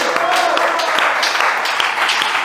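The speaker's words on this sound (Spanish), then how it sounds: "Dele un aplauso fuerte a Él." A dense burst of applause from a church congregation, steady and loud throughout, with a voice faintly mixed in.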